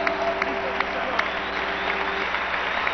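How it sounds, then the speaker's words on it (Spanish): Steady crowd applause at a worship congress fills the space, a dense wash of clapping with a held sustained tone underneath, continuous throughout. "fuerte el aplauso a Jesús, mi Señor."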